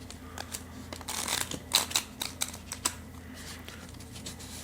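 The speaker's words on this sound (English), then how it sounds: "We'll do 3 shuffles." Quiet, crisp riffling and soft tarot card snaps in short bursts, with light flicks trailing off, close by with no voices.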